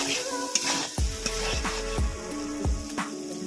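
Ginger and chili paste sizzle in hot oil for chicken biryani, a steady fizz broken by repeated scraping stirs of a spoon against the pan, close and fairly loud.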